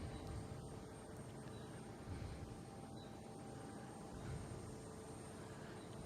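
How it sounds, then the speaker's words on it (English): A distant American Airlines Airbus A321 jet at Boston Logan airport gives a faint, steady engine roar that holds evenly throughout. "this is an A321 heading to Cancun, American Airlines, flight"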